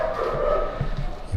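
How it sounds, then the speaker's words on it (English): Dogs yip and whine briefly in the background, fairly close, under a steady noisy hum. "Sorry for my dogs."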